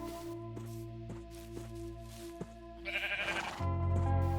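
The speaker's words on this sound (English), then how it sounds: "There you are, you recalcitrant sheep." Sheep bleating in Minecraft, several short blocky calls repeating close by over game ambience, with a louder, sustained bleat near the end.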